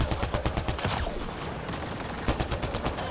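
Gunfire in the video game Mass Effect Andromeda: rapid bursts of automatic shots, dense and loud, pausing briefly midway before another volley resumes.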